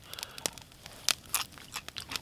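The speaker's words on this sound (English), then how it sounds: "Hear the crunch." Crispy roasted chicken crust cooked at a winter bushcraft camp crunches in a run of sharp, close crackles and bites with uneven gaps, no talking.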